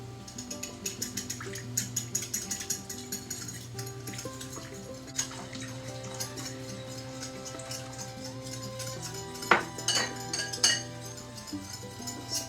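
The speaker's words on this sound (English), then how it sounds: "we're going to slowly whisk in our hot broth" A whisk clinks rapidly against a bowl while hot broth is beaten into an egg yolk and lemon juice mixture, a steady metallic rattle close by with a few louder knocks.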